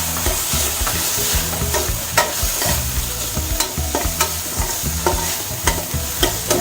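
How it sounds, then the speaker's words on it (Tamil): Chopped tomato sizzles in hot oil in a pan, a loud, steady frying hiss broken by scraping stir strokes at irregular intervals, with no voices. "இப்போ ஒரு சிறிய தக்காளி நறுக்கிட்டோம்னா அதையும் போட்டு வதக்கி"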